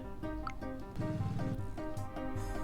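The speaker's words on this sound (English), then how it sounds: "so it makes a little bit of engine noise." A low, steady engine hum with a buzzing harmonic drone from a vehicle in the video game Hungry Hogs, running continuously at moderate level with no talk over it.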